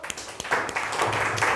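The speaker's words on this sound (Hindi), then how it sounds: "शिवांश के लिए एक बार ताली बजाइए।" Children in a primary maths class clap together briefly, a short run of quick claps that blend into a dense patter, close and fairly loud.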